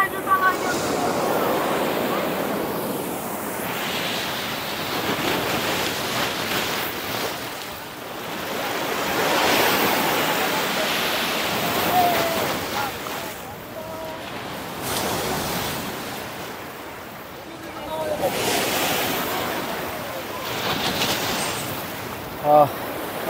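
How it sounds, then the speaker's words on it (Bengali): Big sea waves roll in and break at Patenga beach, sending up a broad, rushing surf wash that swells and fades in repeated surges, with wind noise over the microphone. "বিস্তীর্ণ সমুদ্রের বুকে বিশাল আর একটা ঢেউ আসতেছে।"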